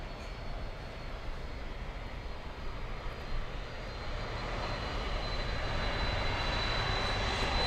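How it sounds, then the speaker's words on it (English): A jet plane's engines roar steadily during takeoff at Miami International Airport, a broad, distant rumble that grows gradually louder and fuller toward the end, with no talking. "I think we're gonna have a pretty quick takeoff"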